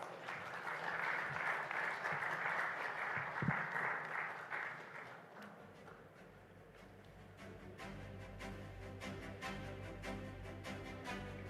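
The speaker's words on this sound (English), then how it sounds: "Can we have a big round of applause?" A conference audience gives dense, steady applause for about five seconds. It then fades as background music with a regular beat takes over.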